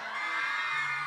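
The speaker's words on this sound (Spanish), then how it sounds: "Así que la juventud, un grito de júbilo." A crowd of young people at an evangelical church concert in Chuisamayac shouts and whoops for joy, a sustained mass of cheering voices at moderate distance filling the whole second.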